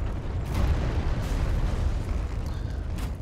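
A steady, dense rumble of explosive blasts and bursts from Dark Souls 3: Ashes of Ariandel, exploding arrows from snipers in a snowfield, continuous low booming with brief sharper pops, fairly loud throughout.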